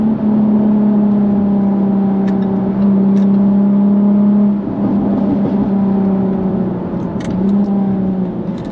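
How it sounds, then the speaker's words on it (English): A supercharged Jaguar F-Type convertible (X152) accelerates hard with a steady high-pitched supercharger whine from the front riding over the engine drone, dipping briefly midway before climbing again. "this car is supercharged, so there's a whine coming from the front of the car."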